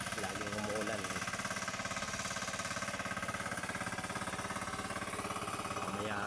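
A farm engine runs steadily during rice paddy preparation for transplanting, a close, continuous mid-pitched chugging with a fast, even pulse that never lets up.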